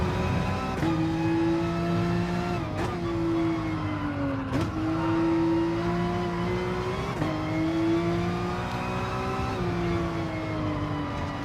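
A race car engine in a racing video game revs with a sustained, loud whine that dips in pitch at each gear change, several shifts over about eleven seconds, heard alone with no talk.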